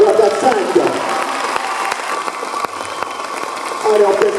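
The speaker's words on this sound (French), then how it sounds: "c'est avec l'applaudissement de la foule que vous allez revenir en pleine forme." A crowd applauds and cheers at a hypnosis show during a talent contest in Wavrin, a loud burst of clapping that continues steadily for several seconds with a voice speaking over it.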